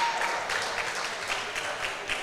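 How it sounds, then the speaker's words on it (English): An audience at a powerlifting meet claps after a good lift, a steady patter of applause at moderate distance that holds evenly throughout. "Give them extra round of applause"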